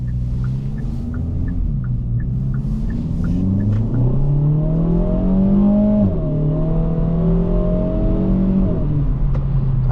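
A 2023 Kia Forte GT in sport mode accelerates from inside the cabin, its engine note climbing steadily through the revs, dropping briefly at a gear change, then rising again, loud and continuous with no talk.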